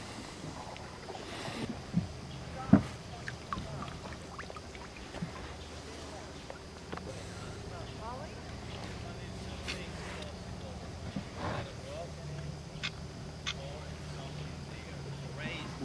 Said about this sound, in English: Y si prendo el motor, okay.